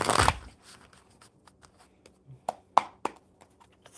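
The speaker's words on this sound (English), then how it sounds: "One more good shuffle and we'll pull some cards for Truth." A deck of cards is shuffled by hand: a loud riffle burst opens, then a series of soft, irregular snaps and taps as the cards are bridged and squared, close and without talk.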